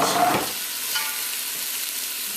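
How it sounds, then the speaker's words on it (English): Scotch bonnet pepper, fresh thyme and scallions sizzle in oil in a lamb coconut curry pot: a steady, close hiss with a brief stirring scrape near the start and a small knock at the end. "Give that a quick mix, just to toast, soften up those herbs we just added in there."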